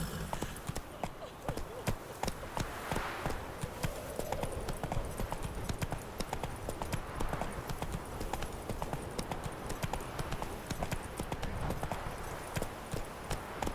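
A horse in Witcher 3 gallops at a steady, rapid clip-clop of hooves that runs the whole time, with faint game ambience and some nearby talk beneath it.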